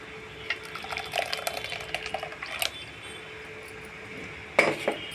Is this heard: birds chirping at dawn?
no